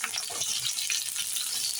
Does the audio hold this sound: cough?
no